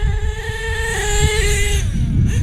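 A gas-powered RC car running on front-wheel drive only after its rear drive broke whines along with a steady buzzing engine, pitch wavering slightly as it drives, close and continuous for a couple of seconds.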